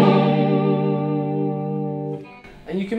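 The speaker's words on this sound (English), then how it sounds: "I think it's vibrato at the moment." A sustained note from an EHX Synth9 guitar synth with a vibrato effect whose wobble slows over the note, ending in a few brief, shifting tones.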